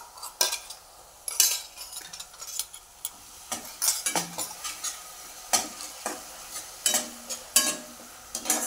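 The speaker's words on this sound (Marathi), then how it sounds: "ते वाटण तेलामध्ये चांगलं परतून घेऊया" Green chili, garlic and coriander paste sautéing in oil, a low sizzle under repeated scraping and clinking strokes of a spatula against the pan, close and irregular throughout.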